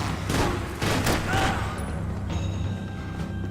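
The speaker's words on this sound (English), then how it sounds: "Und das waren noch 3 saubere Headshots." Gunfire from the video game Max Payne 3: a quick series of loud, close shots in the first second and a half, then a lower, steady in-game background hum.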